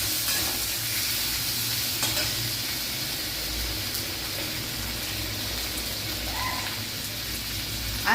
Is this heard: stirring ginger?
yes